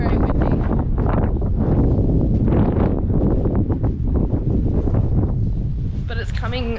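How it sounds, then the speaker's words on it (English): Strong wind buffets the microphone at a tiny home build site, a loud continuous roar and rumble with gusty swells and no pauses. "it's windy, very, very windy."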